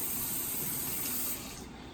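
Hot water runs from a kitchen tap in a steady, close hiss that weakens slightly near the end, with no voices.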